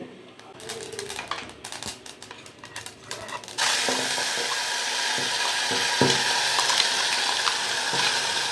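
Amla chutney (Indian gooseberry) is stirred in a pan, first as a series of sparse scraping clicks, then joined partway through by a steady, loud sizzle of frying that continues to the end.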